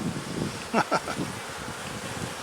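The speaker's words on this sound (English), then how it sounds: "There are a lot of bees in this hive." Honey bees buzz around an open hive during a frame inspection, a dense close drone with a couple of louder passes as single bees fly near the microphone, under light wind noise.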